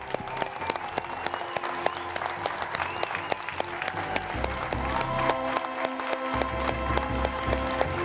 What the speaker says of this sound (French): On va se lever, applaudir Nadia Sabé avant de partir à la pause.